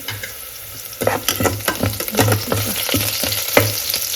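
Mustard seeds, cumin and asafoetida crackle and spit in hot oil in a pan, a dense sizzle with rapid popping bursts and rhythmic stirring scrapes, close and fairly loud, no talking.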